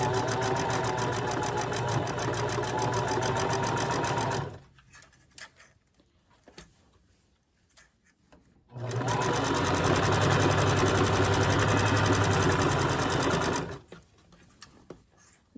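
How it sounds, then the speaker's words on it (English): Sewing machine stitching doll clothes made from thrifted baby clothes, two long steady runs of rapid whirring stitches, close and loud, separated by a quiet pause with light handling noises. "got a sewing machine for Christmas"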